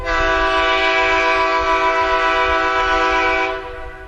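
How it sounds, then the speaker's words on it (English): Train horn blasting one long, loud, steady chord up close for about three and a half seconds before cutting off, with no other sounds around it. "the noise you probably hear the most is my horn when it blasts out."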